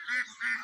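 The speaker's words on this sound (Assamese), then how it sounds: "হোৱাইট পেকিং হাঁহকেইটা" Two short nasal honking quacks from white Pekin ducks on a farm pond, close and moderately loud with a brief gap between them.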